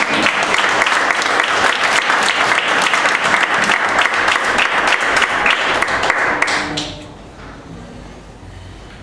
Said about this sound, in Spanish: ¿Quién puede dar un fuerte aplauso a nuestro Dios?